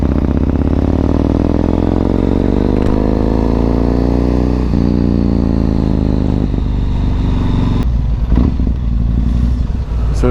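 Yamaha MT-01 motorcycle riding through Dunster Village, its big engine droning loud and steady with pitch rising and falling through gear changes and a shift near the end, no voices over it.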